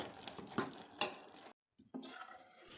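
Spoon stirring payasam with ghee in a pan, faint scraping and clinking strokes with a couple of sharper knocks, a brief silent gap, then softer stirring.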